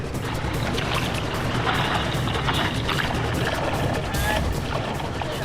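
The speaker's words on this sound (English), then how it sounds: "There's a few waves rolling in now." Ocean surf rolling in at Bondi Beach, a steady, loud broadband wash of waves with brief surges, continuous throughout with no voices.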